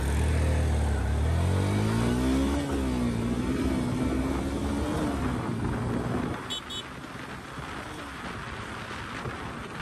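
A Yamaha FZS-V2 motorcycle accelerates hard on a busy road, its engine note rising steadily through the gears with wind rush. The throttle then drops off to a lower rumble of traffic, and a voice is heard briefly.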